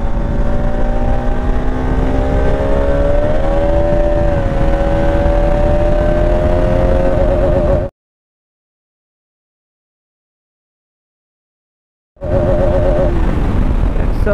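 A Bajaj Pulsar RS 200 BS4 motorcycle accelerating hard in fourth gear, its engine note loud and steadily climbing in pitch, then cutting out to silence before the revving engine returns near the end.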